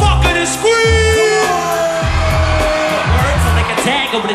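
Concert crowd yelling and screaming at a live show in Los Angeles, a loud roar of voices over pounding bass and music throughout.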